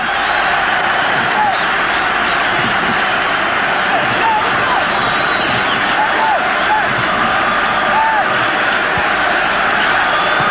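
A huge stadium crowd at the 1994 Africa Cup of Nations final between Nigeria and Zambia roars steadily and loudly, a dense unbroken wall of cheering with a commentator's voice over it.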